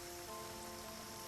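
Steady rain falling by an old wooden train station, a faint, even hiss of drops on surfaces with no voices or other sounds, continuous over a brief moment.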